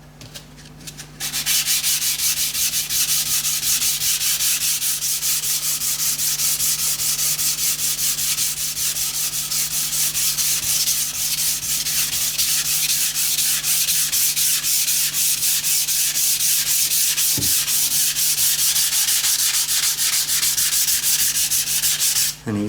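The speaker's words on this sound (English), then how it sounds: "So even after just a small amount of sanding, that feels much smoother." Continuous dry rasping of sandpaper rubbed back and forth over a painted part of a DIY steampunk backlit digital clock, steady and close, ending with a brief knock.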